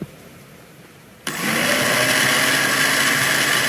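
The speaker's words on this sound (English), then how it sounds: "I do have this more powerful blender, you know" A blender kicks on abruptly after a quiet moment, then whirs loudly and steadily with a high-pitched motor roar.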